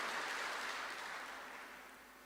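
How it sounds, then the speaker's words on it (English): An audience at a national memorial event applauds with a steady, even wash of clapping that slowly fades over a couple of seconds, heard from a distance with no voices. "So let us thank them and applaud them as well."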